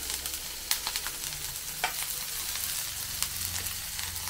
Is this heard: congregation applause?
no